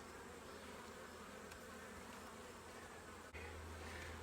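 Buckfast honey bees hum steadily at an open hive, a dense, continuous buzz close by with no voices, holding even throughout with a slight shift near the end.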